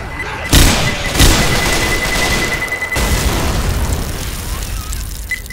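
Grenade explosions in the zombie shooter Left 4 Dead 2, with a loud boom followed by a second burst and a sustained rumbling, noisy wash of gunfire and chaos underneath.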